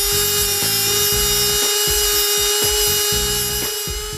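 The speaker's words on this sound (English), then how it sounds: "Then insert the tungsten into the grinder to sharpen." A tungsten grinder whines at a steady pitch while sharpening a TIG welding tungsten electrode, with repeated grinding contacts roughly every half second, loud and close, no talking.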